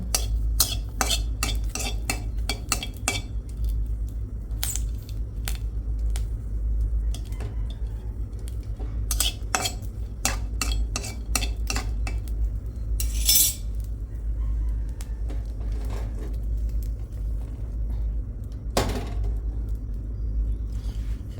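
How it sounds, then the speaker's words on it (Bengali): A metal spoon stirs and scrapes dried chillies in a pan for peanut mash, giving repeated sharp clinks and scrapes in irregular bursts over a low steady rumble. "মরিচ চালতেছি বাদাম ভর্তা বানানোর জন্য"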